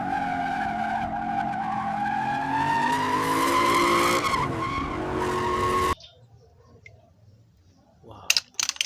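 A racing-car skid sound effect played for a red toy race car: a loud, rising tire squeal for about six seconds that cuts off abruptly, followed by faint clicks and rattles.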